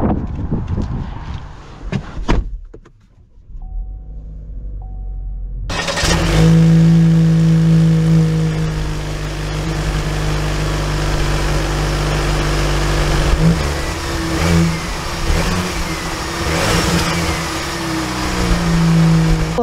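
A 2022 Chevy Blazer with a 2.0-litre turbo engine starts, then drives off. Its engine gives a steady, loud drone close by that swells and eases through the gears, with brief handling noises before it.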